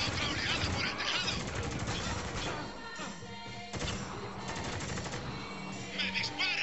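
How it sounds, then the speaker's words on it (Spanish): Gunfire and explosions in the video game Spec Ops: The Line, a dense continuous barrage of automatic fire and impacts filling the whole stretch, with shouted game dialogue mixed in. "¡Me disparan!"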